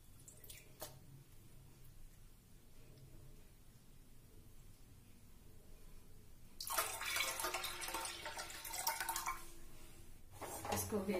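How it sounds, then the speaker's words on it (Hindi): Tap water runs and splashes over cream in a bowl as it is rinsed for making ghee, with a steady low trickle and then louder bursts of flowing water near the end. "इसको एक बार साफ पानी से धो लेते हैं"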